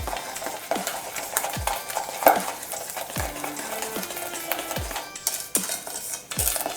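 Egg, butter and sugar for chocolate chip cookie dough are stirred in a bowl, with irregular clinks and scrapes of a utensil against the sides, close and fairly quiet.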